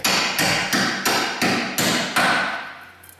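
Seven hard metallic hammer blows ring out in a steady rhythm as bolts on a Ford Taurus rear suspension are struck, close and loud, each hit trailing off before the next.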